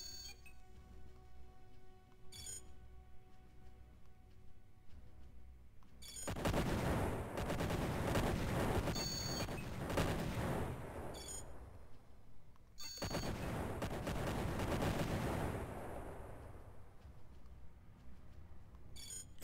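Space battle gunfire in the Imperium Galactica video game comes as two dense bursts of rapid, rattling shots, each lasting several seconds, separated by quieter electronic tones and beeps.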